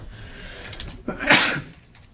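A single sharp human sneeze bursts out near the mic in a chemistry lab room, preceded by a quick inhale and set against faint background murmur.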